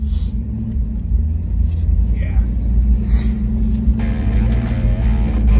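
A Ford Mustang GT engine runs roughly near stalling, a low steady rumble close by with people talking over it.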